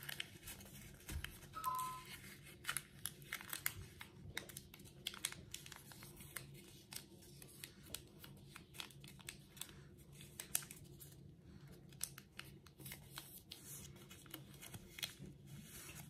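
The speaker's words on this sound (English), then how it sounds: "Then you can fold this top part" Paper being folded for an origami heart, with soft, close crinkles, creases and light taps scattered irregularly across a quiet background, and no speech.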